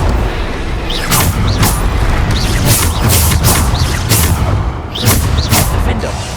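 Repeated explosive blasts of the Bombarda spell in the Hogwarts Legacy video game, several sharp booms bursting in quick succession over a steady, dense game soundscape.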